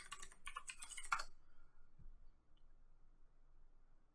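A burst of quick keystrokes on a server's computer keyboard while logging in, close and light, stopping after about a second, followed by a single soft thump and then near silence.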